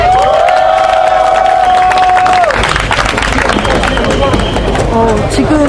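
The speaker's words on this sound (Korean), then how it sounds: "여러분들 박수! 큰 박수 부탁드립니다." An outdoor solidarity rally crowd claps and cheers before a student performance, with a sustained electronic tone or feedback whine at the start and shouts and voices mixed into the clapping.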